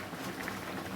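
Lentil dal boiling in a pot, a steady close bubbling and simmering rumble with no talk.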